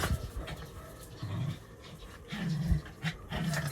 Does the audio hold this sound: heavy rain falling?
no